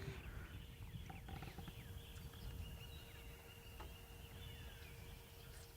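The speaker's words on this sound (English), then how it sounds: "you can hear some apalices in the background there going chicka chicka chicka chicka chicka chicka chicka" Apalis birds call faintly in the African bush at sunrise, repeated quick chattering notes over a steady hum of insects, distant and soft rather than close.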